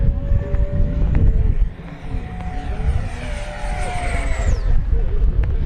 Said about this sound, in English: They built a killer jet out of this thing.